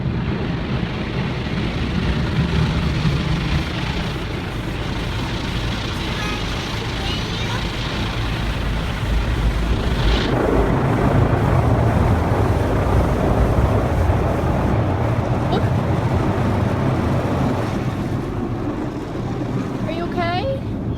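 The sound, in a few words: automatic car wash scrubbing a car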